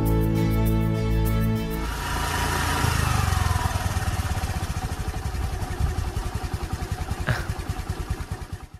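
A scooter engine idles and runs close by with a steady, throaty putter, preceded by a brief tonal musical sting at the start.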